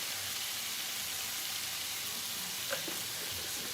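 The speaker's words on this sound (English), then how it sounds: "I just want to saute these until they're starting to brown and they're tender." Cubed potatoes sautéing in a pan for garlic butter steak and potatoes, a steady close hiss of sizzling oil with a faint stir or scrape near the end.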